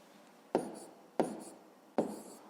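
A pen writes numbers on paper during a math lesson: three short, close scratching strokes spaced evenly, each fading quickly, with no talk over them.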